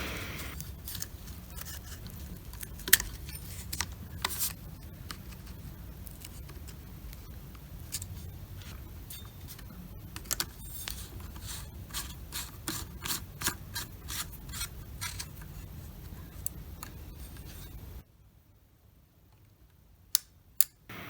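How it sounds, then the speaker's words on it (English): A metal lamp socket shell is fitted over a lamp socket's switch, giving a close run of scraping, rubbing and clicking handling noises with sharp ticks before the sound cuts off to near silence for the last few seconds. "I'm putting on the socket shell, aligning it so that the opening goes over the switch."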